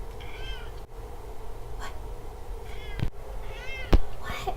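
A cat meows several times, short rising and falling cries spaced a second or two apart, fairly close, over low room noise with a couple of bumps.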